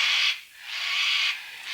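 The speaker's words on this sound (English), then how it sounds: "Some birds in the background." Birds calling outdoors, heard as steady, high, hissy chirring in repeated long bursts with short gaps, moderately loud with nothing else over them.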